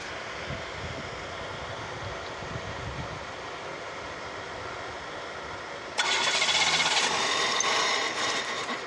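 A car with a suspected ignition coil fault cranks for several seconds with a steady, rough drone, then the engine barely catches and the sound jumps louder and harsher for the last few seconds.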